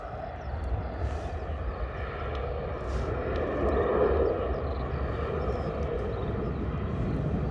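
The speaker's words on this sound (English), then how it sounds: "Jet2 heading out to Palma de Mallorca this morning in the holiday livery." A Jet2 airliner in holiday livery departs Bristol Airport, its engine roar a broad, steady distant rumble that swells gently midway, with no voices.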